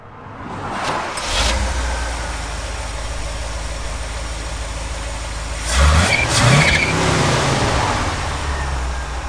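A 6x6 truck engine cranks and catches, then settles into a steady rumbling idle with a brief rev partway through, close by.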